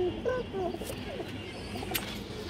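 A large stone-eyed pigeon coos softly nearby in a few short, rising-and-falling calls early on, followed by a quieter background with faint clicks.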